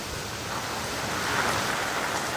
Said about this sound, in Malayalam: ഇപ്പോൾ ചെറിയ രീതിയിലുള്ള മഴയാണ് പെയ്യുന്നത്. പക്ഷേ ഇപ്പോഴും നല്ല കാറ്റ് വീശുന്നുണ്ട്